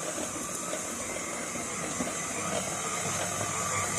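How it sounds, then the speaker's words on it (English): A stand mixer kneads bread dough for soft white bread, its motor giving a steady whirring hum with a high whine, close and constant, with no speech. "we can now let the mixer do the work"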